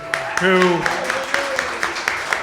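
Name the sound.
audience applause for the co-moderator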